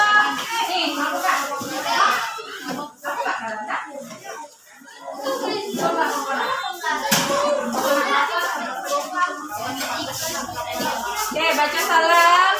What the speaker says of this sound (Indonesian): Tepuk tangan untuk kelompok mangga.